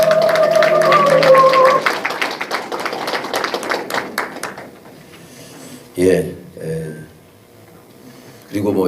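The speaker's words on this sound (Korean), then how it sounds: "박수로 환영합니다." An audience at the founding ceremony of a regional memorial association applauds to welcome a speaker. The loud, brisk clapping fades after a few seconds, and a voice follows.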